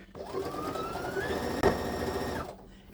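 A sewing machine stitches a fabric headcovering in one fast, close burst lasting about two seconds, starting and stopping cleanly.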